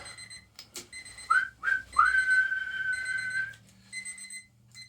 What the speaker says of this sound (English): referee puts his whistle into his mouth.